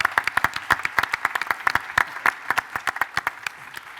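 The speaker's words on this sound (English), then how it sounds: "Let's get some applause." Audience at a Disney creative panel claps in scattered, distinct hand claps, a fairly sparse and moderately loud round of applause that continues steadily for several seconds.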